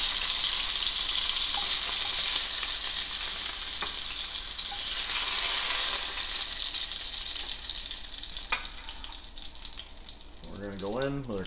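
Beef short ribs sear in a hot pan, a steady loud sizzle with a faint metallic clink, while a voice speaks briefly near the end.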